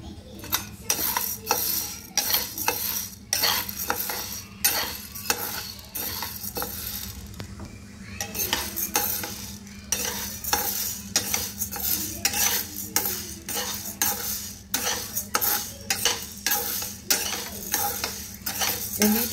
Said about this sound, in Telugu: ఊరికే లైట్గా వేయించుకోవాలి జొన్నల్ని అంతే